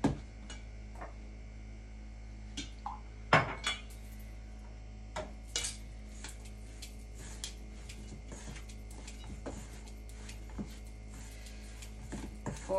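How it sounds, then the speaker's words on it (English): A spoon scrapes and clinks against a bowl while bringing dumpling dough together, sharp irregular knocks and taps over a quiet room background, with no talking. "Use a spoon to bring it together, okay?"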